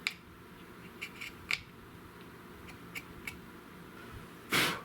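Wood being cut out of a new stock for a Spanish-made Richland Arms 20-gauge shotgun: a few soft, scattered clicks and taps, then a short, louder scraping burst near the end, all quiet and without talking.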